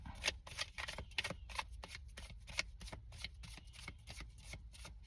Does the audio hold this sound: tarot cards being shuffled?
yes